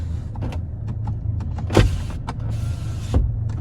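The electric power window motor of a 2010 Ford S-MAX 2.0 TDCi whirs in two separate runs, each ending in a thump, against a quiet idling background with no talk.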